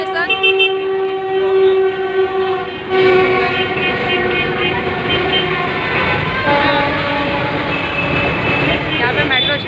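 A metro train rumbles past close by with steady, loud mechanical noise and sustained whining tones, continuous throughout, no talking.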